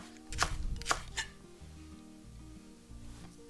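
A knife slices vegetables diagonally on a cutting board for a spicy vegetable stew with tomato and mushroom, giving three quick crisp chops near the start, then a low background hum.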